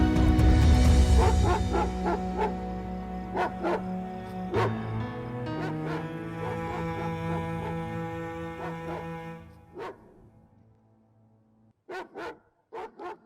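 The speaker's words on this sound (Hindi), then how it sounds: "ये कुत्ते इतने क्यों भौंक रहे हैं?" Dogs bark repeatedly in a village setting in a Pakistani drama scene, a run of sharp barks over a loud, sustained musical background, then a few isolated barks after a quieter stretch.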